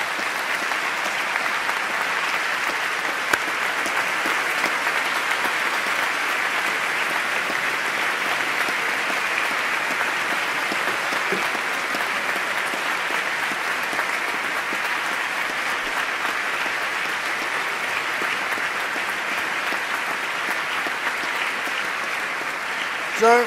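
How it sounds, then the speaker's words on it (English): Sustained, steady applause fills a large hall as law graduates at a winter graduation ceremony applaud their supporters, a dense wash of many hands clapping without pause. "and applaud your supporters."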